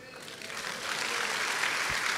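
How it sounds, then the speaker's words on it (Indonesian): Applause from a church congregation at a sermon swells gradually into a broad, sustained patter of many hands, moderately distant and without speech over it. "Jangan tepuk tangan dulu bos."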